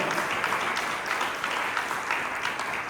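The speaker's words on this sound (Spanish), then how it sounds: "le dan un aplauso fuerte" A church congregation applauds steadily for about three seconds, a dense continuous patter of clapping heard from within the room.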